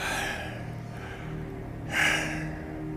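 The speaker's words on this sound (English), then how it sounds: "And then you hear breathing." Eerie breathing in a dark hallway: slow, drawn-out breaths with a sharp, hissing inhale toward the end, close and quiet over a low ambient drone.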